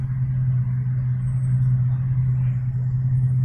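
Idling engines rumble in a long queue of cars at a hospital car park in Perth, a steady, low drone heard from inside a waiting car with no talking.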